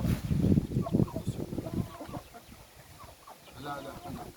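Chickens cluck in short bursts close by, busiest at the start and tapering off, with a little background murmur.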